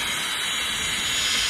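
Air rushes steadily out of a compact van-life vacuum cleaner's exhaust like a blower, a continuous loud hiss with no pauses, heard close and alone.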